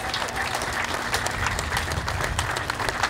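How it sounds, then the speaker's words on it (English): A crowd at a 9/11 motorcycle run ceremony in Linden claps for a fundraiser called forward, a loud, dense round of applause that holds steady throughout. "Give this man a big round of applause."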